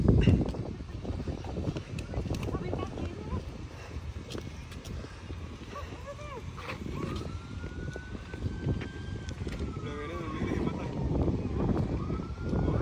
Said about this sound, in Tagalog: Ayan na, ambulansya na yun